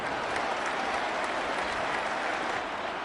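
A stadium crowd in a football video game applauds after a defensive stop, a steady, even wash of clapping and cheering that holds at moderate volume throughout.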